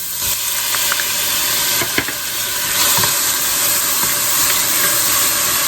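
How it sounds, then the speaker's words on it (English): Onions and green pepper sizzle steadily in about a tablespoon of oil in a pan for chicken chili, a continuous close frying hiss with occasional brief stirring scrapes and no talk. "the first thing we want to do is saute our onions and green pepper"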